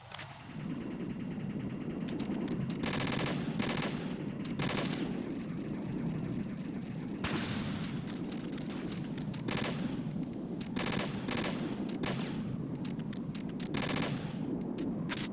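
Rapid machine-gun bursts fire at turrets in the Metal Gear Solid video game, dense sustained gunfire with repeated sharp volleys throughout, loud and continuous with no talk over it.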